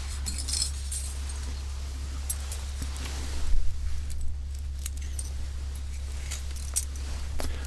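A bunch of keys jangles close up in a quiet ASMR-style room, with irregular metallic clinks and rattles over a low steady hum.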